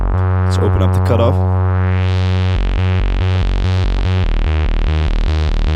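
Synthesizer bass in a modern trance style with its filter cutoff opening up, starting after a short swirl of bright effects and turning into a loud, buzzing, rhythmic pulsing line that grows brighter as it plays.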